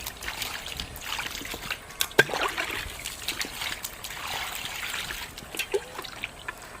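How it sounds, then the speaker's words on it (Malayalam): Water poured over pieces of cut chicken to wash them at an outdoor village cooking spot, a steady soft trickle and splash with a few sharper drips and knocks. "അപ്പോൾ ആദ്യം വെള്ളമൊക്കെ ഒഴിച്ച്"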